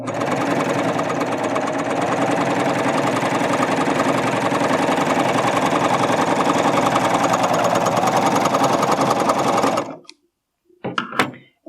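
A Baby Lock Ovation serger runs steadily for about ten seconds, stitching a decorative cover stitch on fabric with a loud, continuous motor whir, then stops and gives a couple of brief mechanical clicks.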